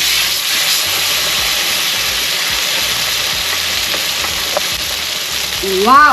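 A tomahawk steak sizzles loudly in a hot pan just after being flipped, a steady bright hiss of frying fat filling the whole stretch, with a brief voice exclaiming near the end.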